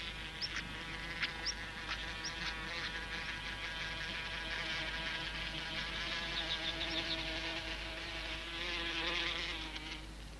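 Wasps buzz in the open, a thin, wavering insect drone with several passes near and away, steady and moderately faint, with no speech.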